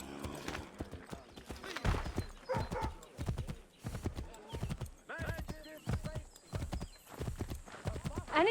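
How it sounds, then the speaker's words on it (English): Horse hooves clip-clop in a steady, loud gallop through Assassin's Creed III Remastered on PC, repeating beats with a whinny mixed in. "Let's just take this person's horse."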